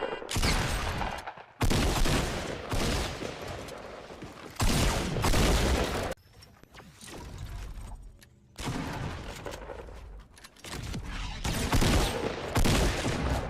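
Bursts of gunfire in the video game Fortnite, rapid volleys of shots broken by short silences, loud and close, with no voices over them.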